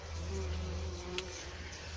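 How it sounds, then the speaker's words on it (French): Steady insect buzzing fills the inside of a garden shed, a continuous low drone with a faint higher whine, heard up close without talk. "On entend ça bourdonne bien là-dedans."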